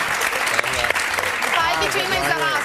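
Studio audience applauds on a Valentine's Day television magazine show, a steady wash of clapping running under a presenter's continuous talk.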